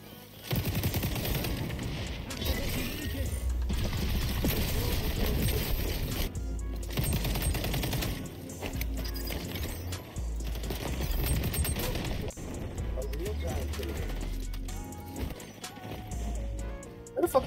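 Gunfire in the XDefiant shooter game, dense rapid bursts of automatic fire repeating across the whole stretch at moderate loudness, with intermittent game sounds.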